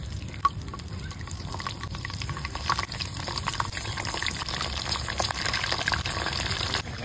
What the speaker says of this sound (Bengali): এবার চলো ধুয়ে ধুয়ে রান্না করি।